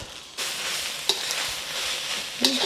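Fried rice with oyster sauce being stirred in a hot pan: a loud, steady sizzle that starts abruptly, with a couple of sharp scrapes of a utensil against the pan, and no talking.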